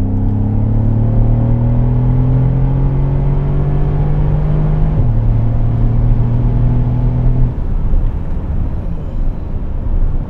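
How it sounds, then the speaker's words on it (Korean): A 585-horsepower Mercedes-AMG S-Class convertible exhaust drones loudly at a steady rev, holding a deep rumbling tone, then drops off into a rougher, lower rumble near the end. "차가 없으니까 한번 조금 배기음을 한번 들려드려 볼게요."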